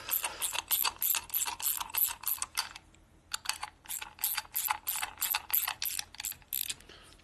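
Ratchet tightening the distributor on a 1967 Harley-Davidson 74ci shovelhead engine, with quick rapid clicking in close bursts, a brief pause near the middle, then more steady clicks, fairly quiet and close.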